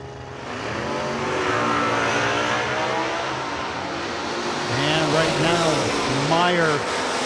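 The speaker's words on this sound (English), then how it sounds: "NASCAR motored Duster dialed 622. You listen to this thing go down the racetrack." NASCAR-engined Duster drag car roars down the strip at a Working Man's Grands race, a sustained loud engine note climbing through gears with a strong rising pitch sweep near the end, crowd and announcer noise underneath.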